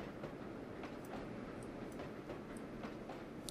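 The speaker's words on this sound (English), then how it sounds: "We're going to get a good feel for the uh, for the sounds of this train" US ATC S160 steam locomotive running in the Trainz: A New Era railway simulator game, a steady dense rumble and hiss with faint rhythmic clicks from the running gear, continuous and without talk.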